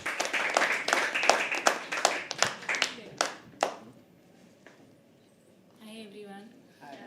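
An open mic poetry audience claps to welcome a performer onto the stage: scattered hand claps, fairly close, that thin out and stop after a few seconds, followed by quiet and then a short burst of speech.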